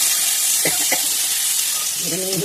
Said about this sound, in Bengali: দেখো পেঁয়াজ রসুনটা দিয়ে দিলাম।